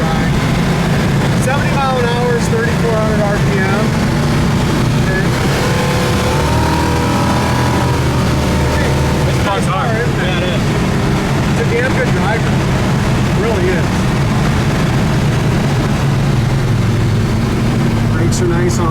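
Steady engine drone of a 1970 Plymouth Satellite Roadrunner cruising at highway speed, about 70 mph at 3,400 RPM, heard loud and continuous from inside the car with occasional pitch shifts and a voice talking over it.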